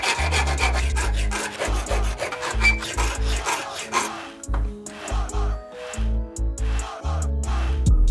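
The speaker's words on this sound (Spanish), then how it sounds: "Ahora voy a ver si le doy una forma un poco bonita con la lima, redondeando los bordes y demás" A hand file works the edges of a bicycle frame, rounding them off: rhythmic back-and-forth rasping strokes, steady at first, then sparser with short pauses, close and clear, with no talking.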